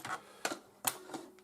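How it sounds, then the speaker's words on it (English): Closing the cassette tape drawer of a ZX Spectrum setup gives a few sharp plastic clicks and clacks, close and fairly quiet, spaced irregularly over a second and a half. "Let me just shut the tape drawer."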